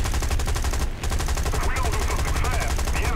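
A tail gunner's machine gun on a War Thunder aircraft fires in a rapid, loud, sustained stream of rattling shots, with a short pause near the start, while a voice speaks faintly underneath.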